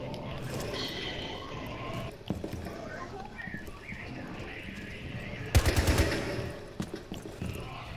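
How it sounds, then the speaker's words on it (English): Video game gunfire fired at a decoy, a short rapid burst of sharp shots rising above busy game background sounds, with scattered lighter clicks and thumps around it. "Yep, I'm shooting the decoy."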